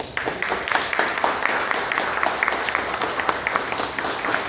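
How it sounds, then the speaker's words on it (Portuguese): An audience gives steady applause after a talk on religious unity, a dense patter of many hands with a few sharper individual claps standing out, sustained at an even level throughout. "Hoje eu vou falar palmas para o amor."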